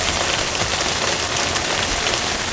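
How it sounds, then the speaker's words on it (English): Dense, steady hiss of heavy rain pounding down in a storm at sea on a lobster-fishing outing, loud and unbroken with no distinct gusts or voices. "The radar shows rain and bad weather here."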